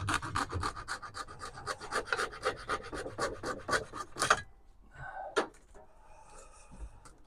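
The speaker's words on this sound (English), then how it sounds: "simply measure out our blade length and then a quick hacksaw snip." A hacksaw cuts through wiper blade rubber with a quick run of close, rasping back-and-forth strokes, then stops, leaving a few faint handling clicks and rustles.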